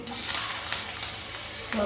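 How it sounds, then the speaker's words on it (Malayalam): Curry leaves, cumin and garlic sizzle steadily in hot oil, a continuous close crackle with occasional sharper pops and a light stir near the end. "കറിവേപ്പിലയും കുറച്ച് ചെറിയ ജീരകവും വെളുത്തുള്ളിയും കൂടി എൻ്റെ ഒപ്പം ഒന്ന് മൂപ്പിക്കാം"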